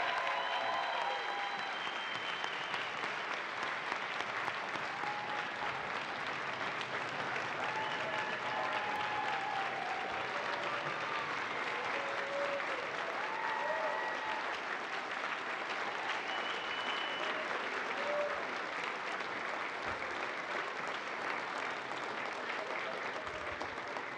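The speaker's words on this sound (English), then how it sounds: "Let's give them a big round of applause." Sustained, dense applause from the audience at a NASA astronaut graduation ceremony fills over twenty seconds at an even level, with faint cheers and voices mixed into the crowd.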